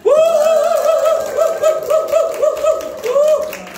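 A church group claps and shouts together, a loud burst of clapping under sustained cheering voices that rise and fall, with a strong held shout running across most of the moment.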